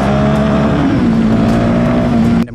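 Motorbike riding, a loud, close engine drone holding a steady pitch with a slight dip, continuous until it cuts off sharply at the end.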